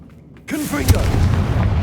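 A Confringo blasting spell detonates in Hogwarts Legacy, a sudden booming burst that erupts after a brief quiet and rumbles on loudly with crackling debris, while a spoken voice is present.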